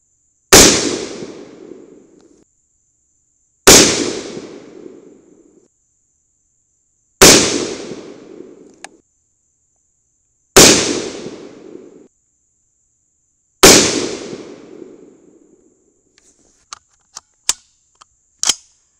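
Five loud, sharp rifle shots from an unsuppressed .22 Nosler, evenly spaced about three seconds apart, each with a short ringing decay, followed by a few faint clicks and small pops near the end.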